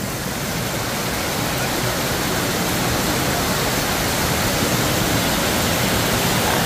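A heavy rain downpour in the early evening, heard as a loud, steady, unbroken hiss of pouring water that holds evenly throughout with no voices.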